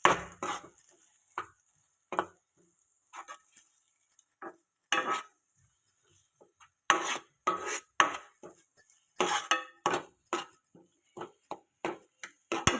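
Beaten eggs stirred in a pan for egg fried rice, heard as irregular scraping and clinking of a utensil against the pan, in short bursts with pauses, fairly close and moderately loud, with no talking.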